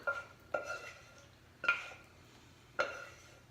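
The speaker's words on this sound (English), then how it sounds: "into this pan and spread them around" Apples are tipped into a large baking pan and spread around for a gluten-free apple crisp, making four separate clinking knocks of fruit and utensil against metal, spaced about a second apart in a quiet room.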